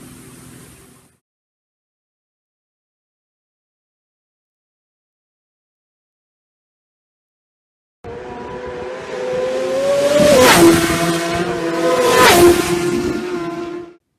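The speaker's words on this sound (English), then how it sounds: "That was Michael, followed by James Hillier, the first machines on the road during a TT practice." Racing motorcycles on the road during Isle of Man TT practice, a faint start then silence before loud high-revving engines build, with two sharp passing surges as machines scream by.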